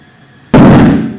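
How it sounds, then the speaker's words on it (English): Flaming methane and oxygen bubbles detonate in one sharp, loud close-up bang that decays over about half a second after a near-silent lead-in. "So if we get just the right blend there, we can get quite a loud explosion."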